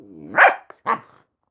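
Dog giving two close, loud barks, the first longer and rising, the second short and sharper, followed by silence.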